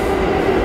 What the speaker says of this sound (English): I was really interrupted by the train.